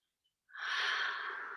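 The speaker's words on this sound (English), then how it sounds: "Nice breathing." A single audible breath during a yoga exercise, a soft but clear exhale lasting about a second, close and alone.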